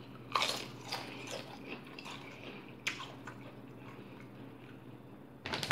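Doritos Blaze tortilla chips being bitten and crunched close up, a few sharp crisp bites spaced apart followed by quieter chewing crackles, with no talking.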